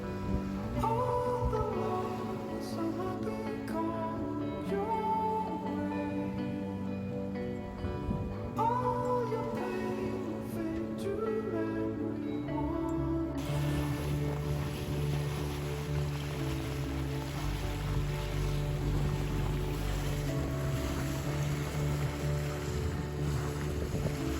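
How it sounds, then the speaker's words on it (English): A sailboat motoring home through heavy fog off Point Loma, its engine giving a steady, continuous drone that holds loud and unbroken throughout, with wind and water noise mixed in and no talking. "we had to motor most of the way back"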